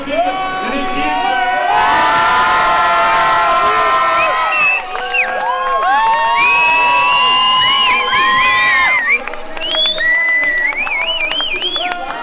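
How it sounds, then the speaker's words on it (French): Crowd at the Sirha food trade show cheering for the Mexican competition team, with loud whoops, shrill whistles and shouts layered over sustained clapping, continuous and energetic throughout. "Je vous demande d'applaudir l'équipe."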